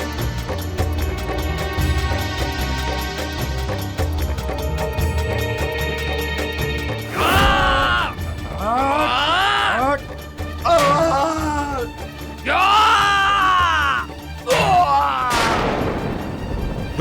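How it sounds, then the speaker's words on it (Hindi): Soldiers shout and cry out in a Mahabharata-era battle at Hastinapur as Hanuman fights them, loud groans and yells coming in repeated bursts after a stretch of steady music, with crashes and thuds mixed in. "ये तो सैनिकों के चिल्लाने की ध्वनि है।"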